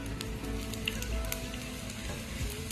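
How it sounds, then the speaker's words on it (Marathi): Grated coconut roasting in a little oil on a griddle over high gas, giving a soft, even sizzle with faint crackles and a low background hum, quiet and continuous, no talking. "तर आता खोबरे पण भाजत आहे पूर्ण प्रकारे"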